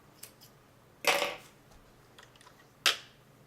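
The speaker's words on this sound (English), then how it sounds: "I cut my yarn." Scissors snip through yarn during a crafting project: a faint tick, then one crisp, close cut and a second sharp snip a couple of seconds later, with quiet room tone between.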